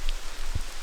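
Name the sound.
rain falling during 4WD trip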